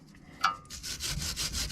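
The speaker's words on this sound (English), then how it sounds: "give that a good clean up with the wire brush" Wire brush scrubbing rust off an Audi A6 brake caliper in quick, close, rhythmic back-and-forth strokes, after a brief metallic clink.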